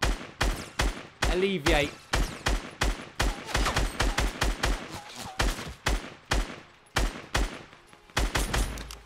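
Double barrel shotgun fire in Fortnite Battle Royale: a series of loud, close blasts in irregular bursts, some fired in quick pairs, with a player briefly talking between shots.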